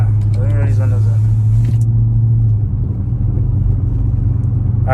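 A low, steady straight-piped V8 engine rumble heard from inside a Chrysler 300 with the windows up, with a strong droning hum that eases after a few seconds, and a voice speaking briefly over it.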